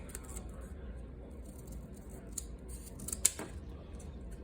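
Scissors cut a cone shape out of cardboard with soft, quiet snips and crunches, ending in one sharper cut near the close, with nobody talking.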